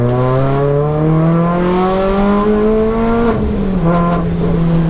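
A Renault Clio road-legal rally car's engine revs hard while driving, a loud, close, continuous drone that climbs steadily in pitch and then drops briefly at a gear change before pulling again.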